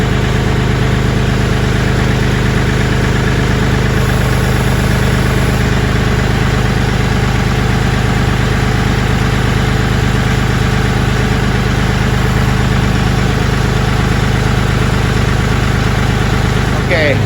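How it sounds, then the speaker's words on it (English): A Kioti tractor engine idles loud and close as the tractor slowly pulls off its backhoe, a steady rumbling drone throughout, with someone talking over it. "So now I can pull off of the backhoe just slowly and carefully."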